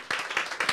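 A congregation in a church applauds after a drum performance, a brief burst of close, dense hand clapping.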